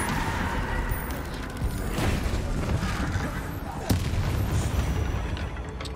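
A Bombarda explosion spell goes off in Hogwarts Legacy, heard as a sharp blast near four seconds over a dense, noisy game soundscape of rumbling booms and clatter, with a voice talking alongside.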